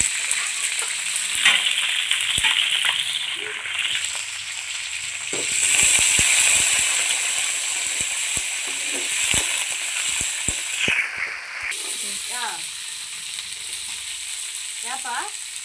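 Curry leaves and green chillies sizzle hard in hot oil for a fish curry, a loud steady frying hiss with crackles and occasional stirring scrapes, no talking.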